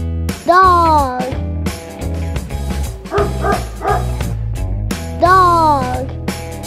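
A dog barks close up in repeated sharp yips and bow-wows, some with a whining rise, in several bursts over a few seconds, with no talking.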